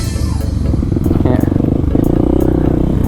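A motorcycle ridden along a forest trail, its engine note droning continuously at close range with steady low rumble and some rattling over the whole stretch.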